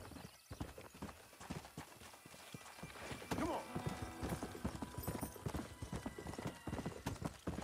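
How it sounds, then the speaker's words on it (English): Horse hooves clip-clop in Red Dead Redemption: Undead Nightmare, a steady rhythmic gait, close and crisp, with a brief horse whinny partway through. "Apparently this horse was originally known as Conquest."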